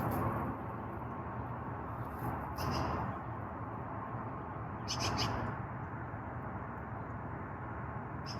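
Bird calls drift in from outside near a backyard chicken coop, likely an owl, thin and partly masked by steady low background noise, with a couple of brief brighter bursts.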